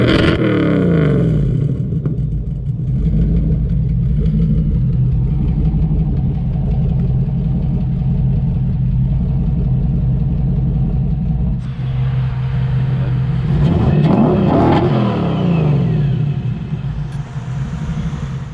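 A Chevrolet Chevette fitted with a swapped LT1 V8 and block-hugger headers idles with a loud, deep exhaust rumble, then revs up and settles back down near the end.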